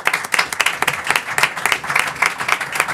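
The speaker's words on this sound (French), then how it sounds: "Bonne main d'applaudissements également à M." Applause from people in a municipal council meeting room, honouring Mr. Corbeil: a steady patter of many hands clapping at close range, with irregular claps and no talk on top.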